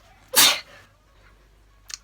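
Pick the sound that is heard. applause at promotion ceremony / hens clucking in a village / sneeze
sneeze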